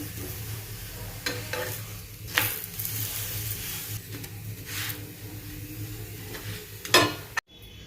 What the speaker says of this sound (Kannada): ಸ್ವಲ್ಪ ಎಣ್ಣೆ ಹಚ್ಚಿ ಇದನ್ನು ಬೇಯಿಸ್ಕೋಬೇಕ್ರಿ